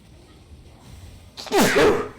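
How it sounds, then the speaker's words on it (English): A single loud sneeze bursts out near the end after quiet, with low background noise before it. "When you're running for your life, you have to sneeze"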